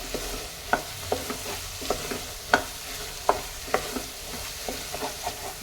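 Ingredients for pulav are stirred and dry-roasted in a pan before rice goes in, with a soft steady sizzle under irregular scraping and tapping strokes of a spoon, close and fairly quiet.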